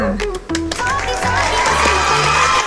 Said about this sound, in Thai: ขอเสียงปรบมือต้อนรับหน่อยค่ะ